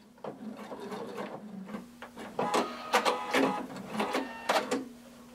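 A domestic sewing machine back stitches at a corner of a hooded tunic, short bursts of rapid mechanical clatter separated by brief pauses, with a steady low motor hum underneath.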